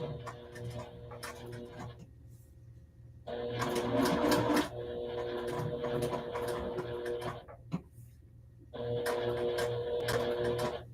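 Juki sewing machine stitching applique pieces, rapid mechanical chattering in several bursts separated by brief pauses, close and fairly quiet.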